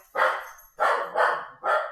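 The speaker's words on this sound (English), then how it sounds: "Let's see if I can get my daughter to quiet the dog" A house dog barks four times in quick, uneven succession, close and fairly loud, each bark short and sharp with brief gaps between.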